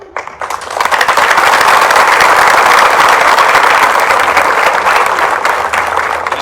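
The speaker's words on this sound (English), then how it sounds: "So join me in applauding these students that we have recognized here tonight" Sustained loud applause from an audience at a graduation ceremony in Pickens County, many hands clapping together in a dense roar that swells quickly and holds steady.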